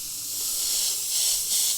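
An airbrush sprays paint in a steady, airy hiss held from a distance for a broad spray, swelling slightly in a few soft pulses.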